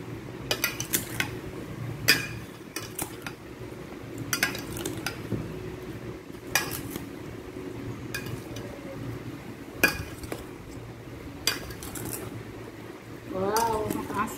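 Cucumber and salted egg salad being tossed in a bowl, giving repeated scattered clinks and scrapes of a utensil against the bowl at a moderate level over a steady low background.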